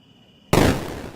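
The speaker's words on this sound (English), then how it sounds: "Explosive ping pong cannon." An explosive ping pong cannon fires with one sudden loud blast after a quiet lead-in, then a noisy rumbling decay that trails off over the next half second.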